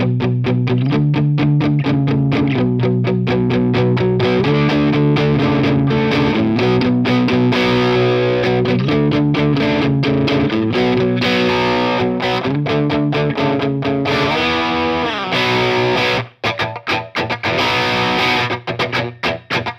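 Harley Benton Classic MR electric guitar on its bridge pickup plays through a distorted amp, a continuous gritty riff of chords and notes that sustains loudly for most of the passage before breaking into choppier strums near the end.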